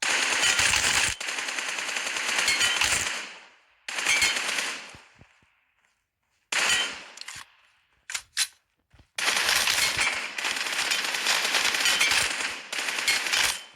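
PUBG Mobile gunfire: long, loud bursts of rapid automatic shots, broken by short gaps and a few brief single cracks before another sustained burst, with no talk.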